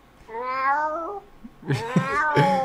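A person imitates a cat, giving one long drawn-out meow and then two shorter meow-like calls, close and fairly loud against a quiet background.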